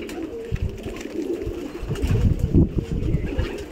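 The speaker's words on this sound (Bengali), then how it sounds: "এই পায়রাগুলো জাস্ট এসে বসলো" Several pigeons that have just landed after flying coo in low, repeated, overlapping calls close by, with no talk.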